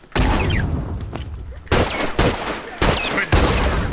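Repeated gunfire bursts from an online match of The Last of Us, several loud broadband shots in quick succession with brief gaps between volleys, close and dominant over faint background activity.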